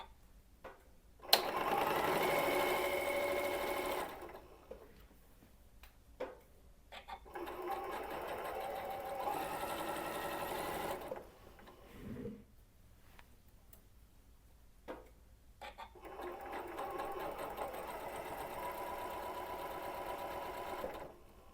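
A sewing machine chain-pieces squares for a fall quilt leaf block, running in several long bursts of fast, steady stitching with brief pauses in between. It is close and fairly loud, and nobody speaks.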